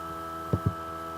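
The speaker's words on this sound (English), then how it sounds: "In the front of the motor is a fan that helps keep the unit cool while you're 3D printing." A cooling fan mounted on the front of a 3D printer's motor hums steadily and close, with two soft thumps midway through.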